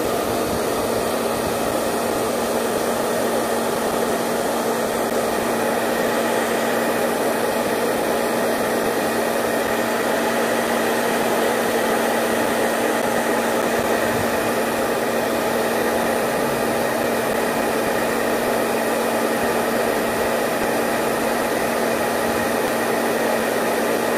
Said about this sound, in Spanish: voy a secar con el secador.